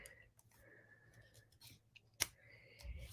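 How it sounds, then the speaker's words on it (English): Quiet scissor snips cut paper close up, a few soft clicks and one sharper snip, with faint hushed speech. "Take my scissors"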